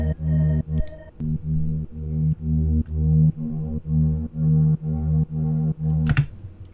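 A reverb space in a house track opens up under a filter, with rhythmic pulsing tonal chords repeating steadily and a sharp noisy burst near the end.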